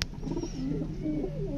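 Low, throaty cooing of pigeons warbles continuously nearby after a sharp click at the start, with a faint chirp above.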